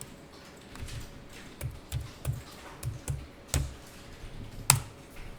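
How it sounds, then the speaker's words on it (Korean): Keys tapped on a computer keyboard during accounting data entry, a series of quiet, evenly spaced clicks with a couple of sharper taps near the end, over low room noise and no talk. "여기 탭키를 눌러서"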